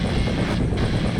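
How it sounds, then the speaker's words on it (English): A steady, loud attack helicopter rotor and engine roar in the video game Metal Wolf Chaos XD, continuous and close, with no voices. "Acting as the defense for this area is this Super Assault heavy attack Olajuwon helicopter"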